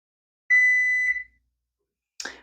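A kitchen timer sounds one sustained electronic beep of about half a second, clear and close in a quiet home kitchen during ice cream making, followed by a short clatter.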